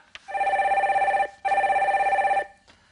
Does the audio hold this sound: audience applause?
no